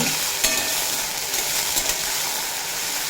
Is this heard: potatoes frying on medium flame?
yes